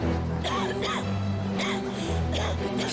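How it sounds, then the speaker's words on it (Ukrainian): Repeated harsh coughs, several bursts in quick succession, close to the microphone over a low steady background. "всіх, мабуть, дратує мій кашель"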